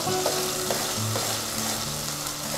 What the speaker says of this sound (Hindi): प्याज को 1 मिनट तक चलाते हुए हल्का सा फ्राई कर लें।